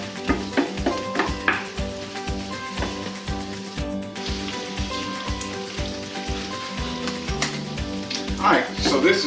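Jalapeno bacon jam with onions sizzling and frying steadily in a pan, a busy continuous crackle with light stirring and rhythmic clatter from music underneath, loud and close throughout.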